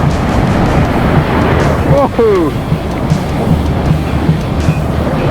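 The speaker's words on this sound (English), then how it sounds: "Pretty good sized waves happening." Waves break on a beach at Riu Emerald Bay in Mazatlan, a constant loud roar of surf and wind buffeting the microphone. People talk and exclaim over the noise.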